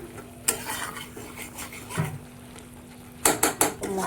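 Spice paste sautéing in a pan for egg curry, with sporadic stirring scrapes and clatter over a low sizzle and a quick burst of close scraping strokes near the end.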